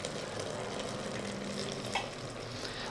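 Steady, close sizzle of leek frying with meat, onion and tomato in a pan, a continuous crackling hiss at even loudness with no talking.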